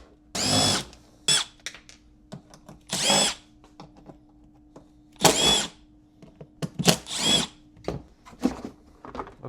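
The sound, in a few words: removing Phillips screws from Yamaha 2000 generator side cover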